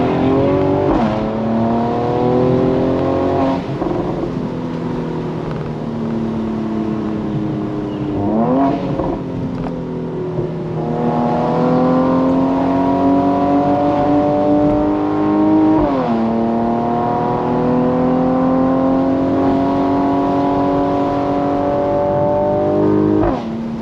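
A Mercedes-Benz C43 AMG cabriolet accelerates along a twisty road, its exhaust rising through several gears with sharp crackles and pops at each shift, loud and close throughout.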